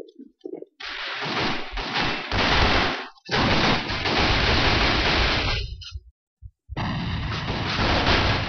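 A grenade explosion in the A.V.A video game, with loud roaring blast noise filling most of the clip, broken by a few sudden gaps of silence and a clipped, harsh tone.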